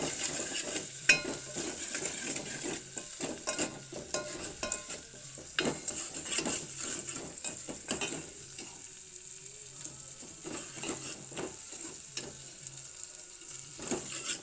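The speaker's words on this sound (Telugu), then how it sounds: "అల్లం వెల్లుల్లి పేస్ట్ బాగా కలుపుకుంటా తాలింపులో" Ginger garlic paste fries in tempering oil for tomato rasam while a spoon stirs and scrapes the pan, a soft sizzle broken by repeated clinks and scrapes, fairly quiet with no talk.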